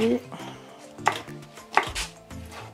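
Peppers are roughly chopped with a knife on a cutting board in a camper-van kitchen, giving a run of quick, close taps with two sharper, louder strikes standing out.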